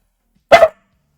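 A single loud, close bark from Gary the dog, a quick double-pulsed woof standing alone in silence.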